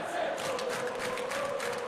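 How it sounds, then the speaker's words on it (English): In the PES 2021 football video game, a stadium crowd produces a steady, distant roar of cheering and chanting that holds evenly throughout without clear peaks. "it's good to see that the crowd appreciate his efforts"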